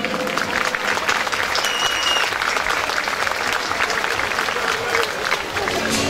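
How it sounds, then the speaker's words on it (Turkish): Wedding hall guests applaud the newlywed couple at a celebration in Bursa, a dense, continuous roar of clapping from a large crowd, with faint music tones threading through. "Bursa'nın en yeni, en şık, en güzel çiftine alkışlar mıyız efendim lütfen?"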